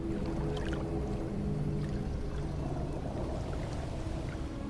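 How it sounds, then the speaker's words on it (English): Pool of water beneath a circle of stone at the Zero Point vault in the Fortnite video game: a steady, enveloping watery ambience with low humming drone and soft trickling, continuous and unbroken throughout. "If you go over to the 0-point vault on the island, you can hear a pool of water that sits below this circle of stone."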